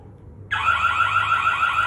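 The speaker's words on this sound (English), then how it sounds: "Zone 1, emergency alarm." A wireless security alarm kit's hub sounds its emergency alarm for zone 1. A loud, steady electronic siren with a fast warbling pulse starts abruptly after a half-second pause and keeps going without a break.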